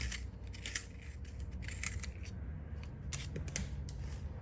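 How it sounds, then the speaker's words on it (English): Pencil being sharpened in a handheld sharpener for a Christmas art-journal craft, a quiet, steady scraping and grinding with soft rhythmic bursts, close but faint with no talk. "For the pencil, I'll just take a sharpener"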